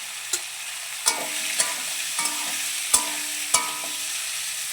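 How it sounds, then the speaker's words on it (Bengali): Vegetables stirred and fried in white oil with a little ghee for a vegetarian paneer curry, a steady sizzle broken by several sharp spatula clacks against the pan, close and without talk. "আর এখানে ওই তেলের মধ্যে থেকে সাদা তেল দিয়েছিলাম আর একটু সামান্য ঘি দিয়ে আমি সবজিটা একটু নেড়ে চেড়ে নেব"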